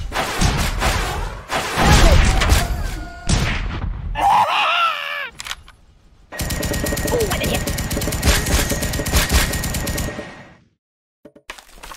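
Rapid bursts of gunfire at the shooting range in the Kick The Buddy mobile game, loud and dense, broken by short gaps, with groaning voices, pained cries and a sustained stretch of continuous firing.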